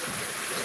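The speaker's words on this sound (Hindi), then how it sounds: "मैं जहाँ बैठी हूँ वहीं से बारिश जस्ट मेरे सामने हो रही है" Rain falls just in front of a seated woman, a steady, moderately loud hiss of drops pattering on surfaces with no voices over it.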